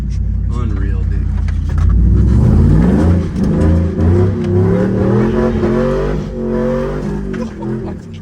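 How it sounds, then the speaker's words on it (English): A Chevy Tahoe with an open differential revs hard while doing circles, its loud engine roaring and surging close by with possible tire squeal, while people talk over it. "Let's see if this thing can do a freaking circle or two."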